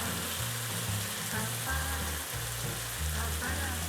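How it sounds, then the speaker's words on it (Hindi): Masala frying for kofta curry gives a steady, dense sizzle that runs unbroken throughout, with a low droning hum underneath. "मसाला हमारा हो चुका है फ्राई, तैयार हो चुका है"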